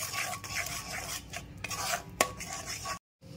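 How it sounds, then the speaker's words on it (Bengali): Cashew paste being stirred into a spice mix in a pan for a milk chicken curry, a steady scraping and rubbing with one brief sharp clink, close and alone, ending in a short silence. "কাজু বাটাটা দিয়ে আরেকবার একটু মিশিয়ে নিতে হবে মশলাটার সাথে ভালো করে।"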